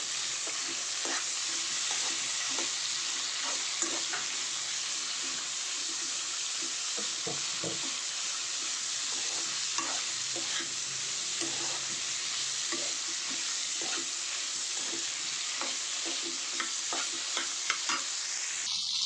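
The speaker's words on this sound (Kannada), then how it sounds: "ನಾನು 5 ಸ್ಪೂನ್ ಇಟ್ಬಿಟ್ಟು ಹುರಿತಾ ಇದ್ದೀನಿ." Frying in a pan with five spoons of oil for brinjal gojju masala, a long even sizzle with frequent light stirring clicks and scrapes, quiet and close.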